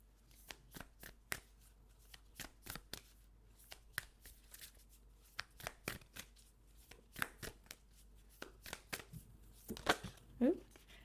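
Moonology oracle cards shuffled and drawn, a fairly quiet run of soft riffling flicks and snaps in uneven bursts, with a few louder card slaps near the end and no voices.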